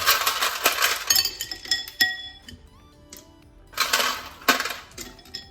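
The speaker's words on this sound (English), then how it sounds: "Then we're going to add the ice to this salt solution." Ice cubes tumble into a bowl of salt brine holding raw scallops, giving several bright clinks and rattles in bursts with quieter pauses between, close and fairly loud.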